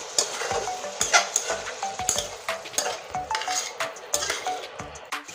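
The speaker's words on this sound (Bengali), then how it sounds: "এই আলুটা এখন এই মশলার ভিতরে ছেড়ে দিচ্ছি। আলু আর মশলা একসঙ্গে আবার কষতে থাকবে।" Fried potatoes being stir-fried in spice paste for a fish kalia, with a steady sizzle under repeated scraping and clinking of a spatula against the pan in a brisk, uneven rhythm, close by.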